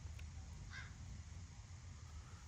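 Crows caw faintly and at a distance, one or two brief calls early on against a low rumbling outdoor background.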